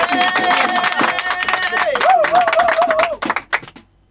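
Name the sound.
congregation clapping and cheering at prayer service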